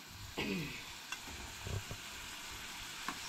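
Garlic sizzles in a hot pan in a home kitchen, a faint, steady frying hiss with a few stirring scrapes and small clicks scattered through it.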